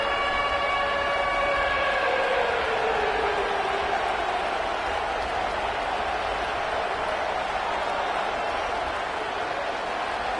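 A packed college football stadium crowd roars loudly and without pause for Florida Gators defense on third down, a dense wall of noise with a falling tonal wail fading out in the first few seconds.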